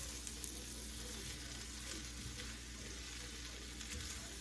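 Soy sauce stir-fry sizzles steadily in a hot pan as it is stirred with the heat just switched off, a close, continuous frying hiss with occasional scraping and no voices.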